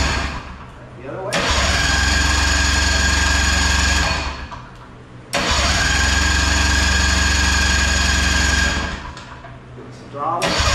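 The 2-stroke engine of a 6x6 Big MAX amphibious machine cranks loudly in two long, steady bursts of several seconds each, separated by a short pause.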